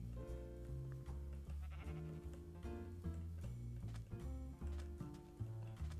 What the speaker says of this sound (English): Another sheepy.